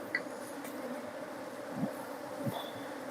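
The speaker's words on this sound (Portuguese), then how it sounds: "As abelhas que conseguem voar vão voar." Honey bees buzz in a steady, moderate drone around an open hive during a colony merge with a screen divider, smoke in use, with a couple of brief louder swells as bees pass close.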